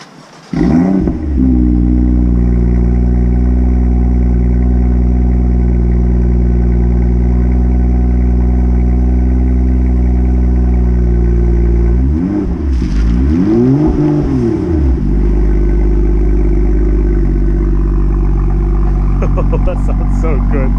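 A new BMW M2 engine idles loudly and steadily close by, then revs up and back down briefly mid-clip before settling to a deep idle again, with a short blip near the end.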